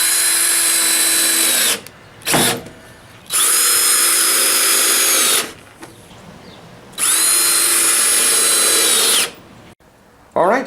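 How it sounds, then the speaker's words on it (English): Power drill driving screws to join two pieces of wood, three long loud whirring bursts separated by short pauses, close up. "I'm just going to use these screws, hold the 2 pieces of wood together"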